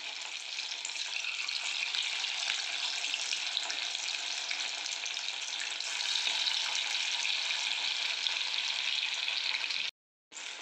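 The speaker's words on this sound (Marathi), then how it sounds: "आता मी याच्यात हळूहळू बारीक बारीक बारीक बारीक पकोडे सोडणार आहे." Pea pakoras in a rice-flour batter deep-fry in hot oil with a steady, bright, crackling sizzle, close and continuous, broken by a brief silence near the end.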